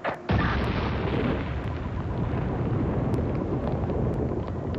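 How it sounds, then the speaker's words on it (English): A coal mine blast from drilling and blasting with delayed charges, a sudden heavy boom that turns into a long, loud, dense rumble and roar lasting several seconds, with no voices over it. "The explosion shakes the earth for miles around."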